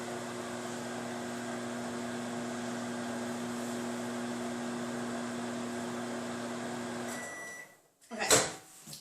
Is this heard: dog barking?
no